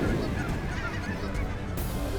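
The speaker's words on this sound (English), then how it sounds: "there's some white geese in there" A flock of snow geese honks continuously, many overlapping calls at once, loud and close, with no talking.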